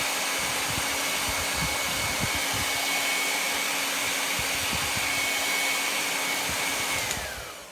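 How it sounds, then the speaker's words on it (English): A hair dryer blows continuously at close range, a loud, steady whooshing whir that cuts off near the end. "off to the side here, I have my handy dandy hair dryer"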